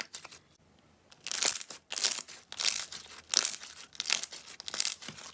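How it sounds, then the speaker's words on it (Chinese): Air bubbles pop and crackle in a soft glass-like slime as it is pressed, in about six rhythmic close bursts of crinkly snapping after a quiet start. "这个泡的声音也挺大的"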